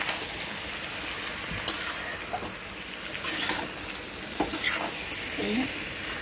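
Green jackfruit sautéed in a pan with spices, a constant close sizzle broken by scattered spatula scrapes and clinks against the pan.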